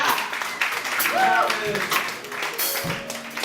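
Applause from an audience at a spoken word launch event, continuous clapping filling the room while a voice speaks over it.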